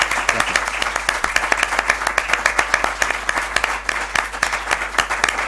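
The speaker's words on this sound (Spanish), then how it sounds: "Creo que se merece un aplauso." Loud, dense audience applause at the presentation of a new social medal and official logo for a 250th anniversary, with sharp, close hand claps running steadily throughout and a low hum underneath.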